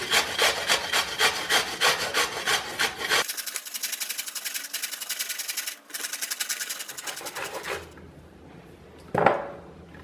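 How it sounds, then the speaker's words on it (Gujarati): Peeled raw mango being grated on a hand grater, with steady, rapid, rhythmic rasping strokes, loud and close, that pause briefly before a final handling knock. "હવે આપણે એક છીણી વડે આપણી જે છોલેલી કેરી છે એને છીણી લઈશું"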